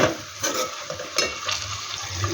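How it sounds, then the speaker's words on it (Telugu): Tomatoes stirred slowly into an okra curry in a pan give a soft scraping and sizzling sound, with a few gentle strokes of the utensil over a low, steady frying hiss. "మనము స్పీడ్గా కలపకుండా మెల్లగా కలుపుతూ ఈ టమాటాలు అంతా అయితే కలపాలి"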